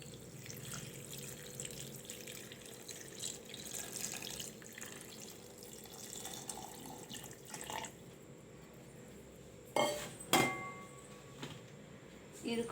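Boiled milk poured into a blender for an Oreo milkshake, a continuous liquid trickle and splash close by, followed by a couple of sharp clinks of a container, with a voice speaking faintly at times.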